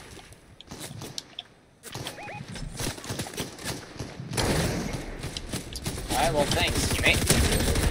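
Gunshots ring out in a video game, starting as scattered shots and building into sustained rapid fire, while a player talks briefly over the top.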